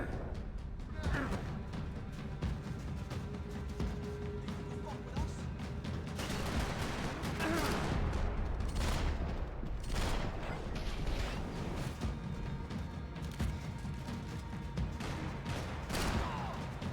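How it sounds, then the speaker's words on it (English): Gunfire in the video game Max Payne 3, set over Hoboken: repeated sharp shots and bursts rattle throughout amid a dense, busy game soundscape, moderately loud with no talk. "Gunfire over Hoboken."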